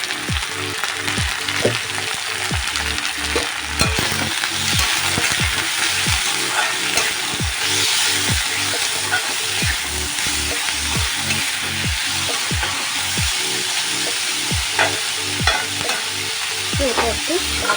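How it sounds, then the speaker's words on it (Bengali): Cauliflower leaves with salt and turmeric fry in a pan, giving a constant close sizzle with rhythmic scraping stirs of a spatula throughout and no talking. "সব কিছু দিয়ে দিয়ে এবার এটা ভাজা ভাজা করে নেবো।"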